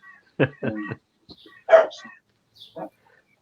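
A dog barks a few times outdoors in a garden, short sharp woofs with pauses between, fairly close and moderately loud.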